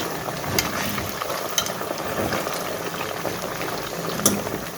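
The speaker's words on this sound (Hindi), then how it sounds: "ये लास्ट वाला है जो अभी फ्राई हो रहा है यहाँ पर" Homemade fries deep-frying in hot oil, a continuous bubbling sizzle with occasional small pops and light clinks, close up and steady with no talking.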